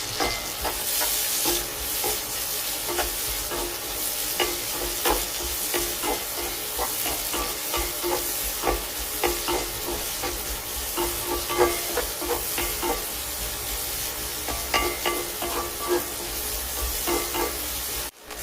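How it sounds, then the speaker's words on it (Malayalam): Loud, continuous sizzling of dried shrimp frying in hot oil, with crackling pops and frequent stirring scrapes throughout. "ആദ്യം നമുക്ക് ഈ കഴുകി വെച്ചിരിക്കുന്ന ചെമ്മീനൊന്ന് വറുത്തെടുക്കണം."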